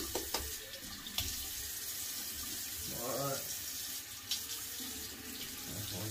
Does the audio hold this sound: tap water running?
yes